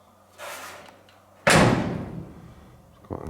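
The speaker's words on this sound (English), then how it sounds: "The door's shut nicely now" The steel door of a 1930s Citroen car converted into a pick-up truck shuts with one sharp, close slam that rings out and fades, followed by a light knock.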